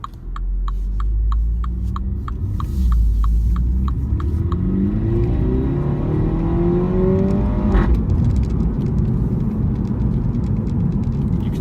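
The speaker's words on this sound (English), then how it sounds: "You can certainly hear the exhaust there as well." A MINI Cooper S automatic with a 210 bhp engine accelerates from a standstill to 50 mph, its exhaust rising in rolling pitch sweeps through gear changes, loud and continuous with a steady road rumble underneath and some faint ticking at the start.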